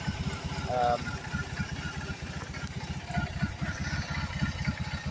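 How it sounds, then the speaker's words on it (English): A 2022 BMW R18 boxer motorcycle engine idles with a steady, low, pulsing exhaust rumble, close by and continuous throughout. "you can kind of hear that rumble of the exhaust"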